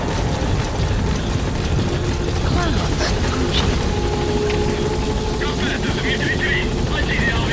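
A helicopter in Metal Gear Solid V: The Phantom Pain drones continuously with a steady rotor thrum, loud and constant for the whole stretch, while a voice talks over it.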